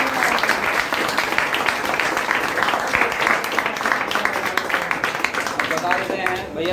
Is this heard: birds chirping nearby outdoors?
no